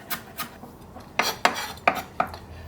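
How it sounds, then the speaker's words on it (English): A kitchen knife chops fresh dill on a cutting board, giving a few soft knocks followed by a run of sharper, evenly spaced chops, close up with no talking. "And then I'm going to chop the rest fairly finely."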